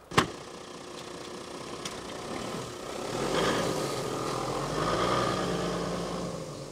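A diesel engine runs steadily at the British Motor Show, with a low rumbling idle that swells slightly as it revs, plus a sharp click near the start and some surrounding hall noise.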